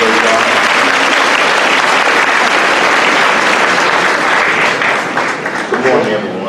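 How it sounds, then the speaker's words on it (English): A crowd at a graduation ceremony applauds loudly and continuously, a dense close wash of clapping that stays even before thinning slightly near the end, with voices mixed faintly into it. "Let's give this powerful woman another round of applause."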